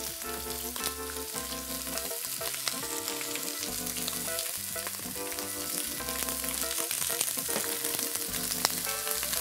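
Quarter of Tierra de Campos lechazo lamb browning in the bottom of a casserole pot, a steady dense sizzle and crackle of fat with no talking.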